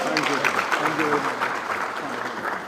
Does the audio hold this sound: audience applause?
yes